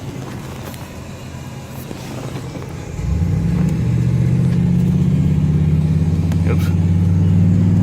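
A Freightliner tractor-trailer truck engine swells in to a loud, steady diesel drone and holds as it drives alongside on the road, with people talking over it inside a car.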